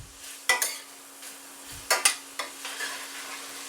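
Steak and onions fry in a pan while a utensil stirs them, a steady sizzle broken by a few sharp scraping clanks, close and without speech.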